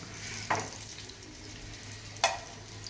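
Green chillies stuffed with masala fry quietly in a pan, a soft continuous sizzle broken by two sharp spattering bursts about two seconds apart, close up with nobody talking.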